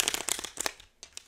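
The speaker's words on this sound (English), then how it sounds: "One more shuffle." Tarot cards are shuffled close by in quick bursts of crisp riffling flutters, followed by a pause and two softer flicks.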